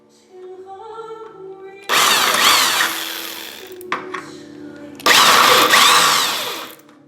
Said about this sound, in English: These are the aluminum rivets, and they're really easy to drill